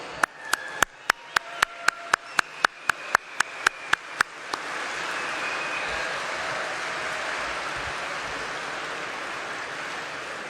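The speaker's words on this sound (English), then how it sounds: "Please stand up and let's give them all a round of applause." Audience at a county Republican Lincoln Dinner: a run of sharp, evenly spaced claps gives way to a broad, sustained wash of crowd applause filling the room.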